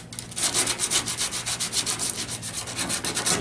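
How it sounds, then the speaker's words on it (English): Sandpaper scuffs back and forth across a plastic surface to dull its shine, a close, rhythmic series of rasping strokes, about two or three per second, with no talk. "And then I'll come in with sandpaper and just rough it up."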